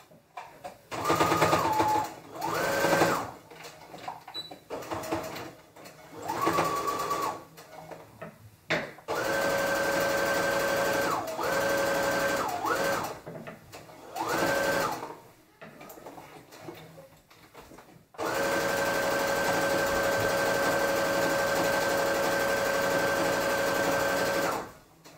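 A sewing machine stitches a pants pocket in several bursts, a close, fast mechanical whir that starts and stops, with short pauses and a long continuous run at the end.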